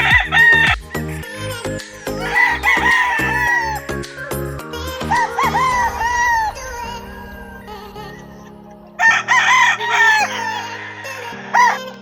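Gamefowl roosters at a game farm crowing loudly nearby, several long overlapping crows mixed with clucking, in bursts with short pauses between, with no talking over them.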